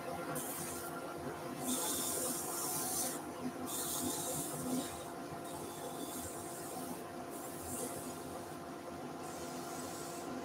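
Sandpaper rubs against a turned wooden pumpkin stalk on a pumpkin box, a steady raspy hiss in repeated strokes, close and continuous with no talking.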